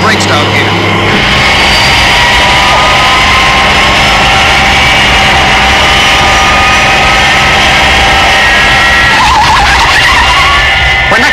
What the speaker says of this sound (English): I'm applying brakes down here.